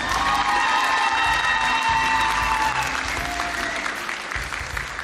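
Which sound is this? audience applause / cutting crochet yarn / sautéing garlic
audience applause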